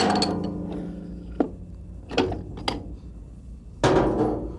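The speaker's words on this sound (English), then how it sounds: "We have installed a slide hammer into the pump for removal" A slide hammer pulls the pump from a Dodge A318 46RE automatic transmission during teardown, giving four sharp metallic impacts at irregular intervals over a low mechanical background, close and clear with no talking.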